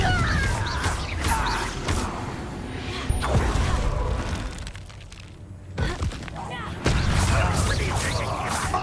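The Confringo explosive spell is cast in Hogwarts Legacy amid dense combat, with loud booms, crashes and shattering impacts layered over continuous game noise.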